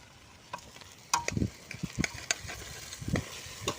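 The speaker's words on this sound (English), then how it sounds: "Let's give that a quick stir." A quick stir of food cooking in a pan, with soft scraping strokes and brief clatters over a faint sizzle, the clip beginning quietly before the stirring starts.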